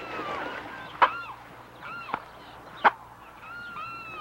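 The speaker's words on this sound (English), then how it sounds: "if their brilliant plumage didn't make these large birds conspicuous, they're noisy squabbling" Scarlet macaws squawk in harsh, scattered calls, a few loud raucous cries standing out over a background of other birds in a noisy jungle.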